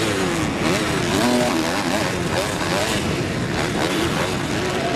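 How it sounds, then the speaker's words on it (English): A 250-class dirt bike engine roars at a Supercross main event in Daytona as the rider works the throttle, a steady loud buzzing drone with rising and falling revs, heard at a distance and blended with crowd noise. "You can really hear Hill working that throttle"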